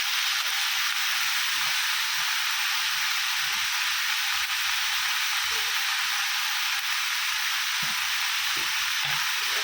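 Green chillies fry in a pan with a loud, steady broadband sizzle. Faint scraping and stirring knocks sound underneath, and nobody speaks.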